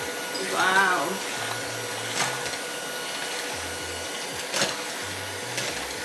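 An electric mixer whirs in a bowl of cookies and cream ice cream base, a faint, steady motor hum with a few brief louder surges and a voice nearby.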